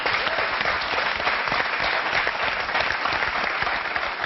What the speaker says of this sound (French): moi, je propose qu'on applaudisse Elsa Zilberstein